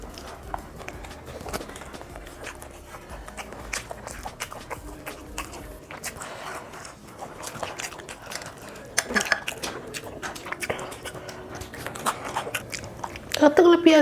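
Close-up chewing and biting of chili chicken eaten by hand, with soft wet mouth sounds and small clicks throughout, a brief louder rustle near the end, and a voice murmuring in the background.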